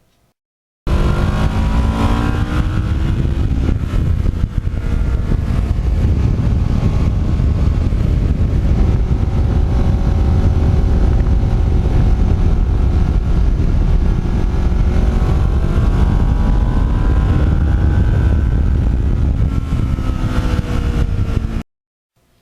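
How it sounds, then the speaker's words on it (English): An uneven firing twin motorcycle engine runs loud and steady while riding, a rough throbbing drone with rising and falling revs for about twenty seconds, without any talking. "because this is an uneven firing twin, it has a wonderful sound when you back off the gas"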